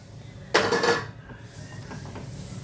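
A spoon scrapes and clinks against a metal pan in one brief burst while stirring roasted ragi flour, then things go quiet.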